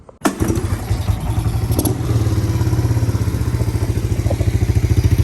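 A Kawasaki Mojave 110 engine catches with a sudden burst, then settles into a loud, rough, steady rapid idle with a rhythmic chugging pulse, close by and alone.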